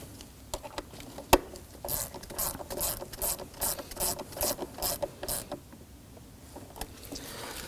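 A ratchet wrench tightens the mass air flow sensor screw on a 2001-2009 Volvo S60 2.5L five-cylinder, sounding as a steady run of close, crisp clicking bursts after one sharp knock, with no talk.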